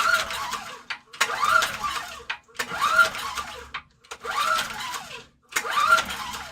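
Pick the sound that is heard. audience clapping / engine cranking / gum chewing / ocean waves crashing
engine cranking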